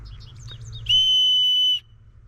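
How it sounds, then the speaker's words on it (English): A loud, piercing survival whistle blast holds steady for about a second after some faint chirpy tones, then cuts off abruptly. "Very loud, not a bad whistle."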